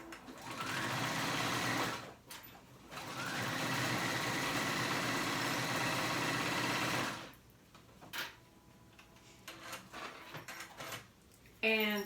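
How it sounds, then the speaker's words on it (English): A sewing machine stitches a zigzag through headband fabric in two loud, steady whirring runs, the first short and the second longer. Quieter clicks and brief talk follow. "I'm going to show you the zigzag stitch on the sewing machine"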